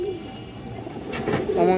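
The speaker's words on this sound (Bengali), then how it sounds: "অনেক ডাকে সারাক্ষণ ডাকতে থাকে নটটা" A pigeon coos low and continuously, close by, in a soft, steady murmur that swells slightly toward the end.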